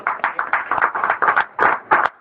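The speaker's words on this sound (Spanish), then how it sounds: "Dele palmas al Gloria a Señor, Dios." A church congregation claps hands together in rhythmic bursts during a Spanish-language worship service, loud and close, with brief gaps between the claps and no talking over them.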